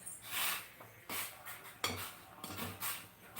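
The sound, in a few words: stirring rasam powder into a cooking pot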